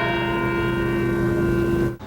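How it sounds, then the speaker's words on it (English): Church bell rung in remembrance in an American city, a loud sustained metallic tone with rich ringing overtones that hums on steadily, then cuts off abruptly near the end. "Places like Boston, Las Vegas, and Baltimore, bells rang out in remembrance."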